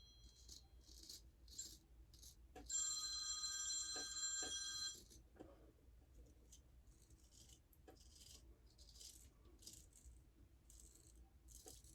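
Telephones in a busy shop give short rattling rings throughout. One electronic ringtone holds for about two seconds near the start and stands out above the rest.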